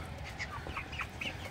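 Broiler chickens on a farm cluck in a faint, scattered chorus of short calls over a low background rumble.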